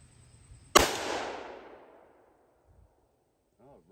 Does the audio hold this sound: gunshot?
yes